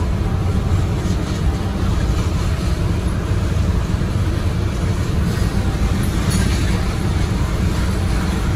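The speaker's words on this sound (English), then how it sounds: "coal train right alongside the Ohio River" Steady, dense low rumble of a long coal train rolling past nearby alongside the Ohio River, continuous and unbroken with a faint high whine above it.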